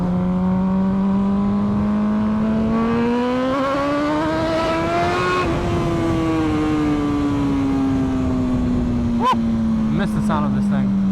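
A Superveloce sports car engine hums steadily, its pitch climbing as it revs up and then easing back down, with a few brief clicks near the end.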